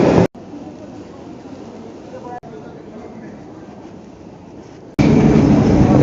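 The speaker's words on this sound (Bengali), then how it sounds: "ট্রেন ছুটতে আরম্ভ হয়ে গেছে" A passenger train starting to run, a steady rolling rumble with abrupt cuts, and voices speaking over it.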